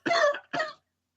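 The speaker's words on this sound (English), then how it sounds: "Yes, I'm clearing my throat, for God's sake." A man clears his throat in two rough, close bursts, the second shorter, followed by silence.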